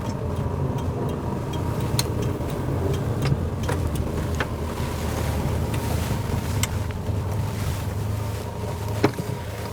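A classic Jaguar 3.4 S-Type with its XK engine roars steadily from inside the car on an open country road, under constant wind rush and with no talking.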